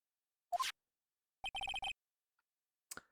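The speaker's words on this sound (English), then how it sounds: "what is with this stupid sounding ringtone?" A phone rings in the Ace Attorney video game: a short electronic blip, then a quick run of rapid chirping ringtone pulses, and one fainter burst at the end, all against silence.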